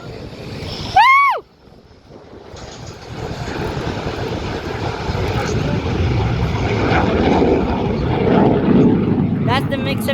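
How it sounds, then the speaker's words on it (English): A MiG-17 Fresco jet fighter passes at an air show with a broad, roaring engine rush that builds and lingers, loud and sustained, while an announcer talks over it. "That's the MiG-17 Fressco."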